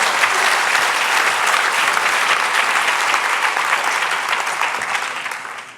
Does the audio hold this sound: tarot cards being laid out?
no